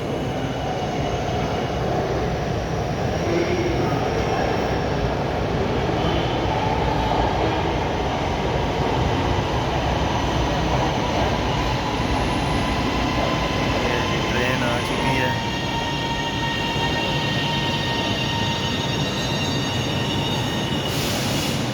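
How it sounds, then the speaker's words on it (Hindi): Lahore Orange Line metro train pulling into a station, a loud steady rumble of wheels and motors lasting throughout with faint squealing tones near the end, heard from close by. "अभी यही वाली ट्रेन पैसेंजर्स को उतार के आगे जाएगी अली टाउन की तरफ।"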